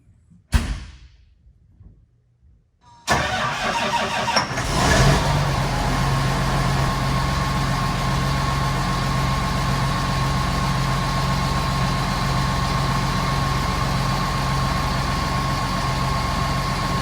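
A John Deere 8530 tractor engine cranks after a sharp knock and brief quiet, catches, and settles into a loud, steady, low diesel idle that runs on evenly.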